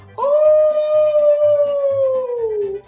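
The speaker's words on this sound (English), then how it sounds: "He howled under her window." A dog howls in one long, loud, sustained wail that slowly drops in pitch, with faint low thumping underneath.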